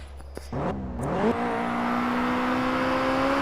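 A car in the mobile game Grand Mobile starts up and accelerates, its engine tone rising steeply and then holding a steady, loud whine.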